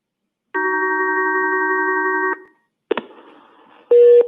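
Telephone line tones play as callers join a county commissioners' meeting: a long, steady multi-tone beep, then a short click and static burst, then another sustained tone, with no voices.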